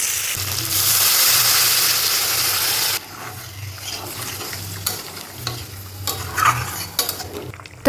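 Water poured into a pan of spice paste frying with capsicum for a vegetarian paneer dish, first a loud steady hiss, then quieter sizzling with scattered stirring clinks.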